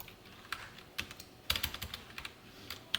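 Code being typed on a computer keyboard, quiet scattered key clicks in irregular bursts, with a few sharper taps standing out, close and alone.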